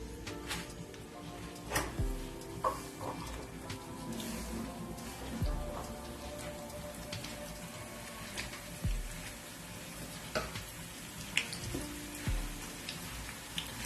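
Sliced onions sizzle and crackle steadily in hot cooking oil while chana dal and brinjal are being cooked, with a few louder pops and stirring clinks scattered over the fry.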